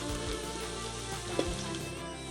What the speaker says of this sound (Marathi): आता कांदा छान भाजून घ्यायचा आहे लालसर होईपर्यंत